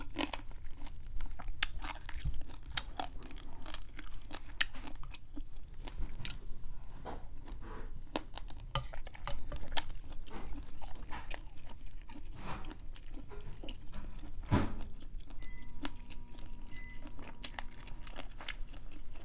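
Crunchy pork cracklings are bitten and chewed close up, giving a quiet, continuous run of crisp crunches and crackles with no talking.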